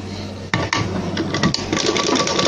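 Sewing machine stitching a folded fabric hem, a steady close mechanical whir with a few sharp clicks and knocks as the stitching starts and shifts.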